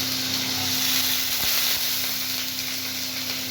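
Diced capsicum and potato hit a hot pan of oil tempered with cinnamon, cardamom and bay leaf, giving a steady close sizzle and hiss that holds evenly throughout, with a couple of soft stirring knocks.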